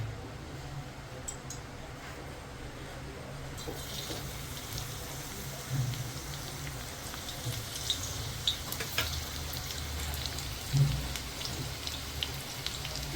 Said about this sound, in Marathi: आता तेल बऱ्यापैकी गरम झालंय ह्याच्यामध्ये आता आपण लसूण टाकूया